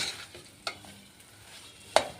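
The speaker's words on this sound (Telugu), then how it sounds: "బాగా నెయ్యి స్వీట్ పొటాటో కలిసేలా మిక్స్ చేసుకోవాలి." A spoon stirs sweet potato through ghee in a pan while cooking halwa, giving a few soft scraping strokes, with two sharper clinks against the vessel over a quiet, faint sizzle.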